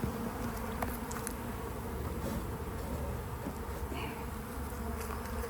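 A honeybee swarm buzzes in a steady, faint drone of many insects, continuous and even throughout, with no voices.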